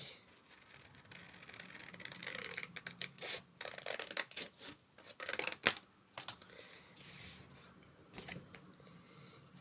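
Scissors snip paper while a triple-diamond greeting card is cut out for scrapbooking, a run of close, crisp cuts in irregular bursts with short pauses, no talking.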